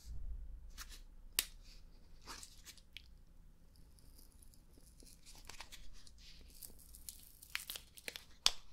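A small food package is torn open up close, quiet crinkling and sharp ripping bursts scattered across a hushed background, with several louder tears near the end.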